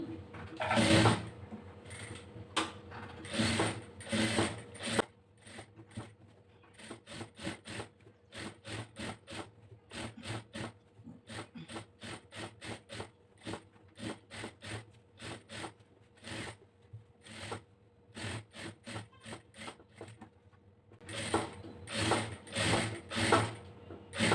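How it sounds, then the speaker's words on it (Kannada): A sewing machine stitches a lining along the neck of a blouse, its rapid mechanical clatter coming in repeated close bursts separated by short pauses, loudest at the start and end, with no talking. "ಈ ಕಡೆಗೆ ಒಂದು ಸ್ಟಿಚ್ ಹಾಕೋತೀನಿ"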